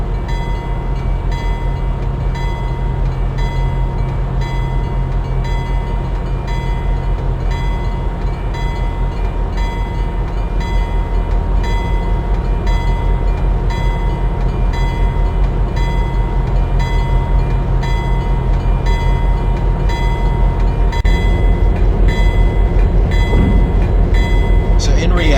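Passenger train of the Pennsylvania Railroad's Juniata line, Philadelphia to Pittsburgh in winter 1965, rolling steadily past a stop signal: a continuous low rumble and hum with faint rail clatter, with voices talking over it throughout.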